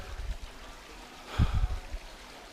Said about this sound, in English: But right now, I got this little brook.